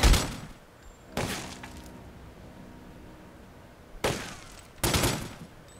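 Gunfire in The Godfather II: sharp, loud shots come in separated bursts, two early and two later, with quieter low background noise between them.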